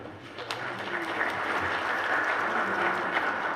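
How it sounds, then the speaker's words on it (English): A church congregation at an Igbo Anglican Sunday service applauds newly elected council members, a steady, dense round of clapping that holds evenly for the whole stretch with no voices over it. "Let's give them all a round of applause, please"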